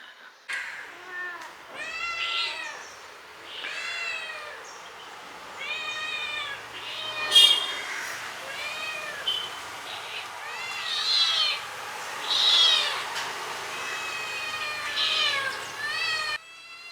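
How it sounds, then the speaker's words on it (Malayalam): Several kittens meow repeatedly in high, rising cries, close by, one after another with short gaps and a few louder calls overlapping. "നമ്മളെ പൂച്ചക്കുട്ടികളൊക്കെ ഇതാ ഇവിടെ ഉണ്ട്"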